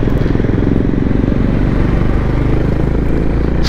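Honda Highness CB350 DLX motorcycle on a highway ride, its engine and exhaust giving a steady, loud, continuous drone throughout with a low rumble and no voices.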